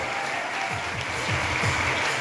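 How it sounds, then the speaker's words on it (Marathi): Audience applause at an Independence Day celebration, a steady, close wash of clapping from a crowd that swells slightly toward the end. "हा टाळ्यांचा कडकडाट थांबता कामा नये."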